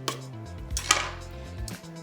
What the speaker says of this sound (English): I'm just going to take an offset spatula and scrape off the extra chocolate from before